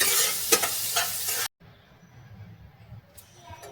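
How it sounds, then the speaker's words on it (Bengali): Cut sanna stems fried lightly in oil in a pan make a loud, close crackling sizzle with sharp bursts. It cuts off abruptly, and a much quieter, faint background follows. "দেখুন দিয়ে এটাকে আমি তেলের মধ্যে ভেজে নেব হালকা করে।"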